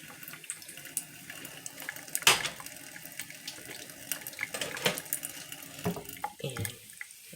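A kitchen tap runs water into a sink during breakfast cooking, a splashy, uneven stream with gurgles and spatters, close and moderately loud with no talk.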